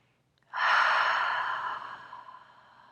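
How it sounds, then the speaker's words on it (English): A single audible exhale out of the mouth during a yoga session, a breathy sigh that swells suddenly and fades slowly over about two seconds, close and alone. "Breathe in and exhale out of the mouth."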